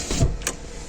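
A car's power window motor whirs briefly as the window closes, a short, close, quiet mechanical hum with no talking.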